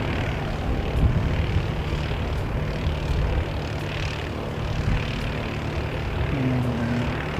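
A Qantas airliner taxis toward the gate, its steady engine hum and low drone running continuously at moderate distance with some background rumble.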